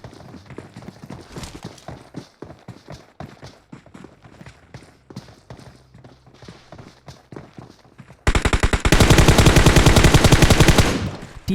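Rapid automatic gunfire in a PUBG Mobile custom-room esports match near a sniper tower: quieter in-game clatter and scattered shots first, then a loud, dense, sustained burst of fire near the end.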